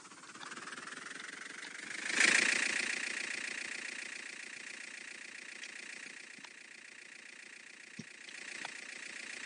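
A train engine driven in a video game on a Singapore North South and East West Line rail simulator, a steady synthetic engine drone that swells sharply near the start and then settles into a constant hum with a few faint clicks.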